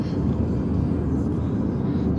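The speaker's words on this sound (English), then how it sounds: "Oh, it's right there, that's the airplane." Steady low rumble of an airplane passing overhead, heard from inside a moving car with constant road and engine noise.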